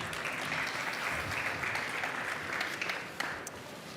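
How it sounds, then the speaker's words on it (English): An audience at a conference session applauds the panel speakers with steady, continuous clapping from many hands, fairly faint and distant, tapering slightly toward the end. "Give a round of applause for them"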